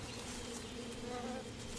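Wild bees swarm around a hive broken open by bears in a Russian valley, a continuous droning buzz of many insects, faint and steady, with no voices.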